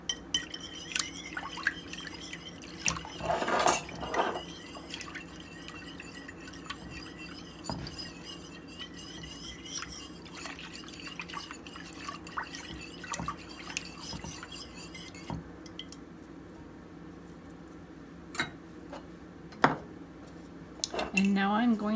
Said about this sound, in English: So I'm going to mix these ingredients.